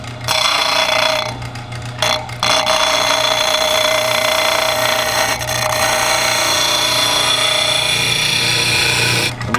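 A hunting knife is drawn along a powered sharpener, giving a steady, loud, high grinding whine with a constant motor hum underneath that runs the whole time, briefly dipping in a few spots.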